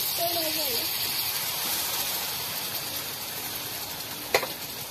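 Water splashing into a sizzling paste of ground melon seeds and cashews in a hot pan, a steady bright hiss filling the whole stretch with a faint voice near the start and a short clatter near the end.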